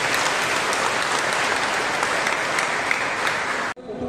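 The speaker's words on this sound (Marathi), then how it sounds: "प्रभूला जोरदार टाळ्या वाजवूया" A church congregation breaks into loud, dense applause that carries steadily for several seconds before cutting off abruptly.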